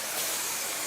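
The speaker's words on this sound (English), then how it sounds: "on the back we just spray the section at the back" A steady, close hiss of primer sprayed around the edge of a bathroom floor during sheet vinyl installation, continuous and even throughout with no talking.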